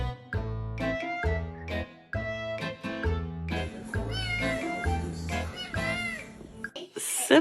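A cat meows repeatedly in loud, close, drawn-out cries, with overlapping human voices talking throughout.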